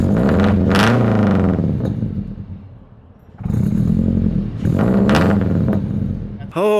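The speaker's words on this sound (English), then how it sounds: "Oh boy, so now I own a straight piped FRS." A straight-piped Subaru FRS with no muffler revs hard in loud, raspy bursts, dropping to a rough idle between the revs and ending in a brief sharp blip.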